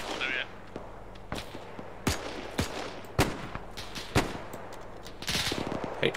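Gunfire in an Arma 3 World War II battle at Remagen: scattered sharp rifle shots and short bursts crack out over several seconds, some close and loud, others more distant, with faint voices in the background.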